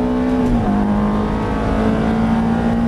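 A Ferrari F430's engine drones at high, steady revs on a race circuit, with a brief pitch dip around a gear change before the roar holds on, loud and close.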